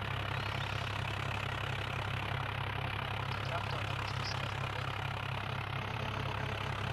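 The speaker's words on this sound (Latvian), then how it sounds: "es ceru, ka tie traktori nebūs pa skaļi" Tractor engines idle in Farming Simulator 2011, a steady low rumble with a constant throbbing pulse running unbroken and fairly loud throughout.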